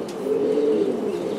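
Pigeons coo in one low, soft, rolling call, steady and close, with nothing else competing.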